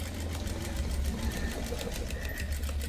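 Sewing machine running steadily, stitching a cutwork blouse neck with small stitches, a continuous close whirring hum with no pauses and no talk.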